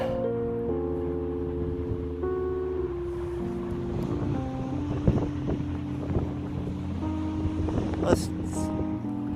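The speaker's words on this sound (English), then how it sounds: "Don't mind the wind a little bit out here" Gusty easterly wind blowing outdoors, buffeting the microphone with a steady low rumble for the whole stretch, while someone talks over it.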